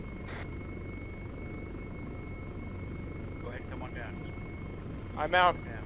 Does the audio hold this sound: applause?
no